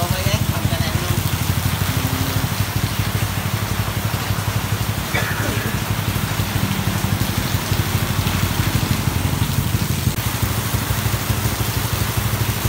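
Steady rain pours down during outdoor work, a dense hiss that holds for the whole stretch. It is mixed with a low idling engine drone, and voices are heard briefly.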